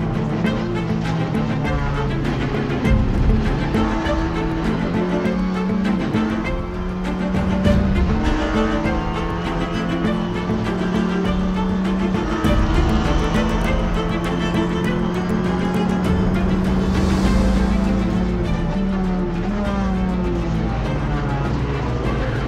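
Race cars roar continuously around a circuit during a championship race, engines droning and shifting pitch as cars pass, loud and sustained throughout with no talk.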